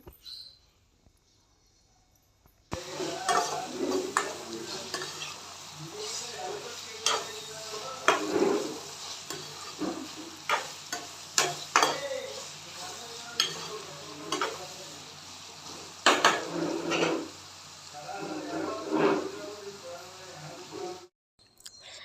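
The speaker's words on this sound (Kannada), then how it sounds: "ಈಗ ಇದನ್ನು ಚೆನ್ನಾಗಿ ಬಾಡಿಸೋಣ ಮೀನ್ಸ್ ಚೆನ್ನಾಗಿ ಫ್ರೈ ಮಾಡೋದು" Eggplant with turmeric stirred and frying in a pan for vangi bath, a steady sizzle broken by repeated scraping and clacking strokes of the spoon, close and fairly loud, with no talking.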